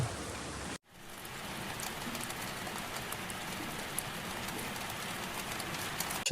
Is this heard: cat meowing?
no